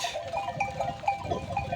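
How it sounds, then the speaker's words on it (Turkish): Sheep bleat together with newly born lambs at lambing season on a highland farm, overlapping wavering calls close by and fairly loud throughout, with no speech. "kuzu doğumu başladı. Şimdi 3 tane oldu."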